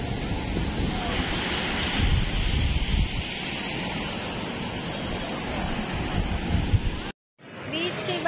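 Surf washing onto the beach at Vizag, a steady broad roar of breaking waves with wind buffeting the microphone, continuous for several seconds before a brief cut and a return of the wash.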